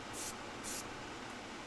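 An airbrush sprays Vallejo paint as a test sample: two short, sharp hissing bursts, close and crisp, separated by a brief pause, over a faint background hum.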